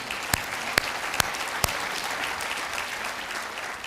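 An audience applauds at a university presidential inauguration ceremony, with steady, dense clapping running the whole time and a few sharper individual claps standing out near the start.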